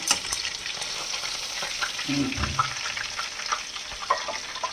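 Fish frying in hot oil gives a steady, close sizzle and crackle throughout, with a few soft clinks and stirring noises in the middle.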